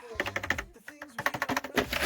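Quick, light clicks of typing on a freshly cleaned, previously dust-covered computer keyboard, close and crisp in an irregular rhythm with a brief pause near the middle.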